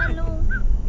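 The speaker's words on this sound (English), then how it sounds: "you got a dog or something back there?" A small dog whines faintly in the background in two short, high-pitched whimpers, heard behind a phone call on a radio show.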